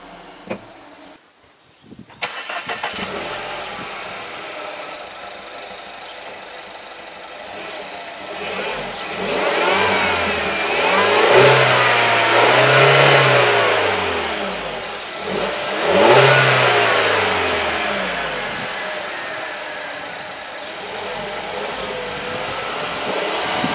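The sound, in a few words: 2015 Mini Countryman Cooper S engine starting and revving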